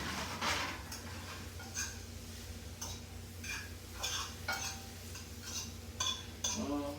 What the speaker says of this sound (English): Let me stir this cauliflower.